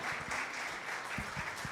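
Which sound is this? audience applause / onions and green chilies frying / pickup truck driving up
audience applause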